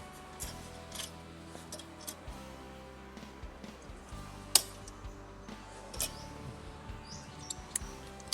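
Scissors snipping material during work on a Honda aircraft: a series of small, crisp cuts and ticks spread through the clip, close and fairly quiet over a low steady hum, with no talking.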